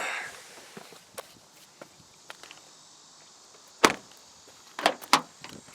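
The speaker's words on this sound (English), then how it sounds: "Let's get out of the car." Someone getting out of a 2016 Mazda3 i Sport, a quiet stretch of soft shuffling footsteps followed by a sharp door clunk and a couple more quick door thuds near the end.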